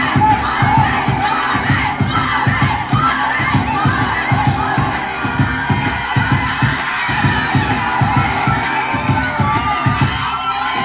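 A large crowd of fans screams and cheers without pause, a loud, dense wall of high-pitched shrieks and whoops that fills the whole stretch.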